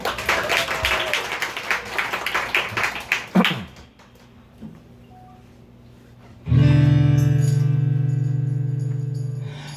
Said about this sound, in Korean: 박수 드릴게요